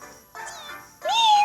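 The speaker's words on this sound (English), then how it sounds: "your meow is so high" A high-pitched cartoon cat meows in the Simon's Cat Crunch Time game, two short rising mews, the second louder and more drawn out, with a faint game tone underneath.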